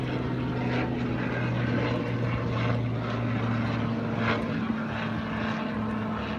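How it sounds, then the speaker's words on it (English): A loud helicopter passes overhead, a steady droning rotor and engine roar with a sustained low hum that holds throughout, heard alone without talk. "There's a very loud helicopter going over, guys."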